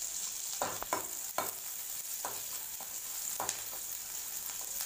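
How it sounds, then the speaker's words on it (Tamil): Onions, green chillies and curry leaves sauté in hot oil, giving a continuous close sizzle broken by several short stirring scrapes and spoon taps, with no voices. "வெங்காயம் மிளகாய் எல்லாம் கருவேப்பிலை நல்லா வணக்கிக்கோங்க எண்ணெயில"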